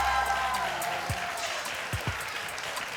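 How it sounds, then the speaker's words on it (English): Studio audience on a daytime talk show claps through the stretch with moderate, fairly even applause that eases slightly toward the end, and a few low thumps and a brief voice break through. "I don't know why they clapping."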